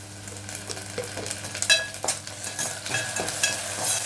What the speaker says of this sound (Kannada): ಅರ್ಧ ಸ್ಪೂನು ಶುಂಠಿ ಬೆಳ್ಳಿ ಪೇಸ್ಟ್ ಹಾಕ್ತೀನಿ